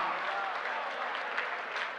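An audience at a Hindi comic poetry gathering (hasya kavi sammelan) claps together in a dense, even burst of applause that fills the whole moment without pause.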